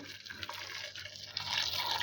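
Boiling cherry juice poured from the stove over cherries in a bowl, a liquid splashing and trickling that grows fuller and louder toward the end, with no talk.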